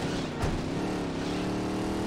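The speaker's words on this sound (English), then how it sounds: "Damn, this car loud as shit." A loud car engine in the video game Saints Row roars steadily at close range, its rough, throaty drone holding for a couple of seconds with a brief louder burst near the start.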